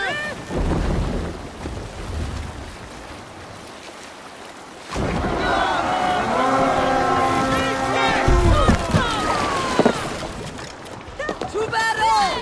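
A Viking longship in Assassin's Creed Valhalla sets sail: wind and water rush and creak under loud shouted voices and a swelling musical score, with no distinct sail-raising sound singled out.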